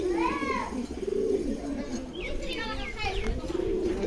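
Male teddy pigeons coo in repeated throaty rolling calls close by, overlapping with a talking voice and faint chirps.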